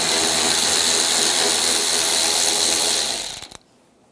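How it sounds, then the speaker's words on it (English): Ratchet spinning an 8mm socket to back out a bumper cover bolt on a 2011-2018 Ram 1500, a fast continuous clicking whir lasting about three seconds before tapering off into silence. "I'm going to use an 8mm socket."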